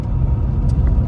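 A Classic Mini Cooper engine runs with a steady low rumble close by, a dense continuous drone with faint higher clicks over the top.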